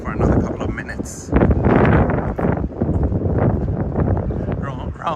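Strong wind buffets the microphone on a summer walk through central Stockholm near the old town and waterfront, a loud continuous roar with gusts under someone talking.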